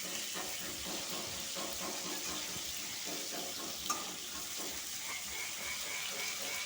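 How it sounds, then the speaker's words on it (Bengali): Fish frying slowly in oil in a kadai over a low flame, a steady soft broadband sizzle and hiss running throughout, with one brief sharp pop partway through and no voices. "আমি ধীরে আঁচে মাছগুলো ভাজছি ভালো করে"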